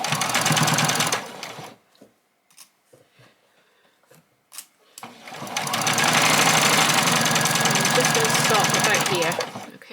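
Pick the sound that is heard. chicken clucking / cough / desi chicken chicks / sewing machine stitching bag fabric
sewing machine stitching bag fabric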